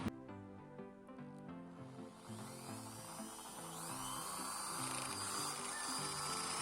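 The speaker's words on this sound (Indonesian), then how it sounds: "terdengar ya suara impactnya atau hentakan ke depan dari bor ini" A Bosch GSB550 impact drill with an 8 mm bit, running in hammer mode, gives a steady close-up whine with a rattling hammer texture that builds slightly louder over the whole stretch.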